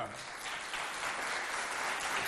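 A school audience in Mao, Chad, claps in a steady, moderately distant wash for a jury member at an inter-school arts competition.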